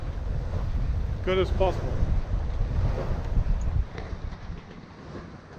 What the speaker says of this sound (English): it's been gusty, way more than I had expected